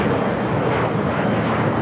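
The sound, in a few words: Boeing 777 airliner pushing back at LAX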